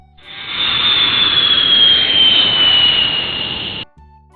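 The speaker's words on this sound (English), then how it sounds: "Orange color airplane." A jet airliner engine roars steadily and loudly for several seconds with a bright high whine on top, then cuts off abruptly.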